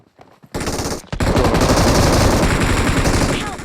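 Rapid automatic gunfire in a shooting video game bursts in loud and close after a brief quiet start, then runs as a dense, sustained volley for several seconds.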